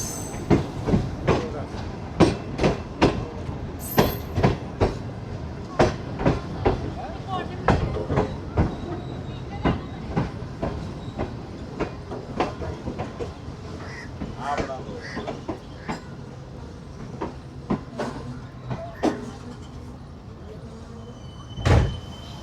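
Shalimar Express passenger train running from Lahore to Multan, with steady rumble and sharp repeated clanks and clatters of wheels and couplings throughout, plus a few sliding-door thuds and faint voices in the background.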